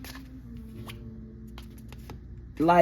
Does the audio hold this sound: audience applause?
no